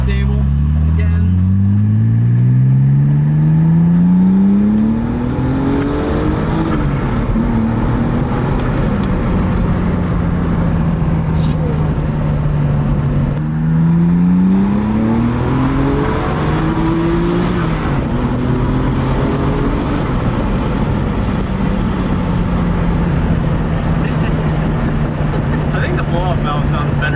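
A supercharged BMW E36 M3 engine revs hard and close, its pitch climbing in repeated rising sweeps before settling into a steady, loud drone, with the valve recirculating.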